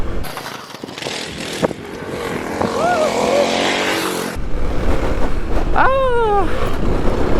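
Kawasaki KLX300 dirt bike lapping a motocross track, its single-cylinder engine droning loud and close with rising revs and gear changes, then a sharp throttle blip and whining climb near the end.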